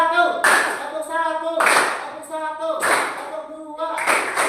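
A group claps together in unison during a synchronized clapping exercise, sharp repeated claps in an even rhythm while an instructor speaks over them.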